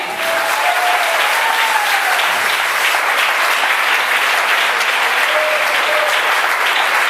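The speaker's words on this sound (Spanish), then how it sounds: "Dale ese aplauso al Rey" Loud, sustained applause from a church congregation for the King, a dense steady wash of many hands clapping throughout with no pause.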